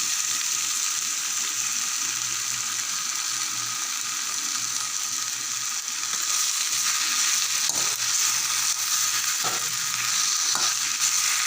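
Crushed peanuts tipped into a hot frying pan give a steady, close sizzle and frying hiss that runs the whole time, with a few brief scraping clicks near the end and no one talking.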